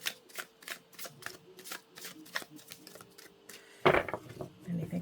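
Tarot cards are shuffled by hand in a quick run of crisp, rhythmic riffling taps, close and clear, ending in one louder, denser burst of shuffling.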